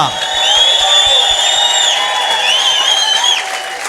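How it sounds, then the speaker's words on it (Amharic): A congregation at an Ethiopian church healing service bursts into sustained applause with high ringing cries and ululation riding over the clapping, loud and close. "እንደገና ለኢየሱስ በጣም ከፍተኛ ጭብጨባ።"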